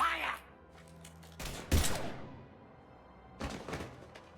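Gunfire in Mass Effect Legendary Edition: a couple of sharp, loud bursts of shots ring out, one near the middle and another toward the end, with a voice briefly at the start.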